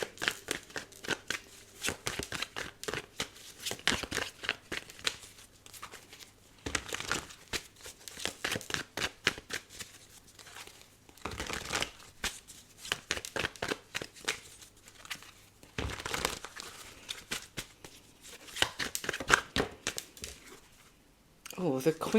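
A deck of tarot cards is shuffled by hand over a long stretch, with repeated riffles and soft flicks of card against card. The shuffling comes in bursts separated by brief pauses.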